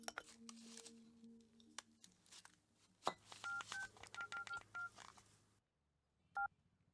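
A telephone is dialed: a rapid run of separate keypad tones, a pause, then one more tone.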